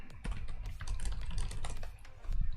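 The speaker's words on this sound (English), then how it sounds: "I'm typing that in the Twitch box" Quick, uneven typing on a computer keyboard at a Twitch chat box, close clicky keystrokes in rapid bursts with a brief pause before resuming, no voices.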